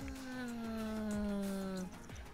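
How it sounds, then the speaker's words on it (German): A cat in The Sims 4 gives a drawn-out, wavering meow that lasts about two seconds, loud and close, followed by a brief pause and a soft trailing sound. "Was ist jetzt hier mit der Katze los?"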